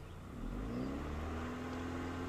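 A car engine at idle rises as the throttle is pressed, stepping up to a higher steady hum with a faint climbing whine, close and moderately quiet.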